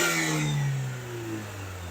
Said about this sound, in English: You can hear the supercharger if you stand in the front.